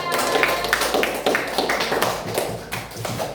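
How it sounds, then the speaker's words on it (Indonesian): A classroom of students clapping for a group of classmates, a close, fairly loud burst of many hands with rhythmic accented claps standing out, continuing steadily. "Yuk, ke kelompok 2 yuk kita beri tepuk tangan"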